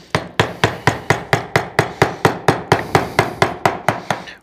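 A mallet strikes a wood carving chisel again and again, about eighteen sharp, evenly spaced knocks in quick rhythm, close and loud, while the chisel cuts into wood.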